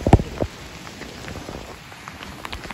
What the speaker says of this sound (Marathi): परत पाऊस सुरू झालाय.